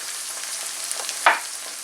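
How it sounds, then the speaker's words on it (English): Two cans of mackerel are tipped into onions frying in a pan for a family breakfast, a quiet steady sizzle broken by one sudden sharp hiss and spatter as the fish lands, then settling back. "The mackerel is open, so I'm just going to add it into my onions."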